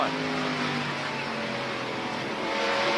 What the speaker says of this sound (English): we'll take this restart from Rusty Wallace's car, 2nd to 3rd gear, as they whistle down the front straightaway